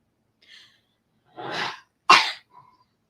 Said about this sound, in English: That's my son coughing.